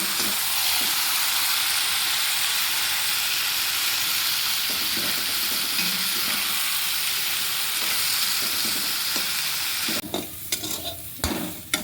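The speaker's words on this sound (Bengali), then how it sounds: "নারকেলটা আমি একটু তেলে ভেজে নিচ্ছি" Grated coconut frying in oil in a kadai while cooking taro greens, a steady loud sizzle and hiss throughout, with stirring scrapes and clatter near the end.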